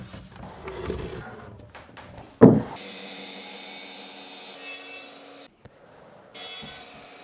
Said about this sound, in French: Prochaine étape, c'est la découpe de l'emplacement de l'évier.